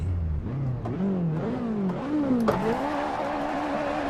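A powerful car in the Assetto Corsa racing game launches from a standing start on the Top Gear test track. The engine revs climb sharply, dip briefly at several gear changes, then hold a loud, steady high drone.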